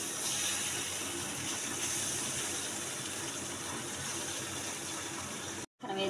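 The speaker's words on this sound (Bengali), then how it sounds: "এখানে আমি নুডলস দিয়ে দিতেছি।" Noodles dropped into a pot of boiling water on a stove, a steady loud bubbling hiss and rush that runs continuously, ending in a brief cut near the close.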